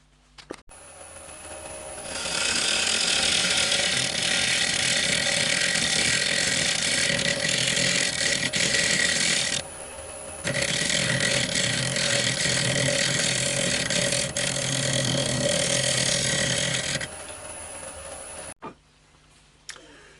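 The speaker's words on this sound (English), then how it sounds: "I'm sanding it down now, going through the grits" A continuous hiss of sandpaper against a spinning idigbo and resin bowl on a lathe over the motor's hum, steady and loud, briefly pausing midway then resuming before stopping.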